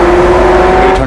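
A loud, steady engine drone with a strong humming tone and induction noise, heard close up from inside a fast-moving McLaren Senna.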